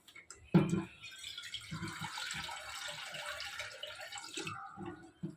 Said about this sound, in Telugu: ఇందులో కొంచెం వాటర్ పోయండి.